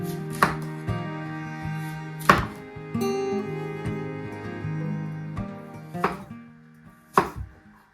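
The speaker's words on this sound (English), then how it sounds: "I think I'm going to chop into little tiny pieces" Apple peel being chopped into tiny pieces on a board with a knife, giving sharp, close thunks at an uneven pace with pauses between cuts.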